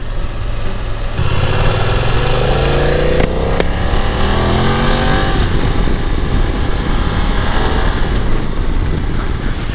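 A 2020 BMW F900XR motorcycle engine hums steadily while riding slowly through town traffic, with a rising rev partway through and continuous road and wind noise underneath.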